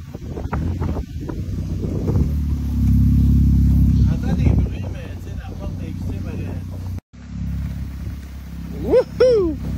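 A homemade supercar with a 3D-printed body runs with a loud, deep engine rumble that swells and falls, under wind buffeting on the microphone, with people talking and a brief cheer near the end.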